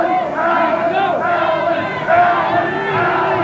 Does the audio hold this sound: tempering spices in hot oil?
no